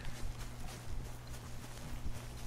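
Horse hooves clip-clop in Red Dead Redemption 2 as a horse walks at a steady, even pace, the hoofbeats soft and moderately close over a low rumbling game ambience.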